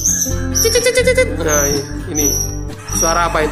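A white-rumped shama (murai batu) gives high, whistled song phrases in short bursts, heard close up while someone talks loudly over most of it.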